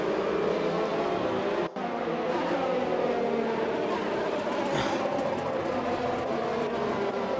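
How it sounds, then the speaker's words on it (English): Race car engines roar continuously in an Xbox racing game at the Zandvoort circuit in the Netherlands, loud and steady with shifting pitch as cars accelerate, plus one brief dropout. "Someone's engine sounds like hell."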